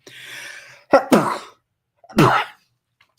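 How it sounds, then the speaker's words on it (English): Two abrupt sneezes from a person indoors, the first a quick double burst and the second a single loud blast about a second later, each close and alone with no talking. "Every morning I'm waking up and sneezing when I get on."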